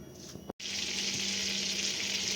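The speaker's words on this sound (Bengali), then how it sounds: "দেখো বাটারটা এখানে অনেকটা মেল্ট হয়ে এসছে।" Butter melting in a pan over a gas flame before eggs go in, giving a steady bright hiss of sizzling with a brief break near the start, close and continuous.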